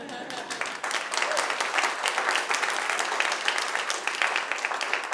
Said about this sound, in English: You're now free to applaud if you like.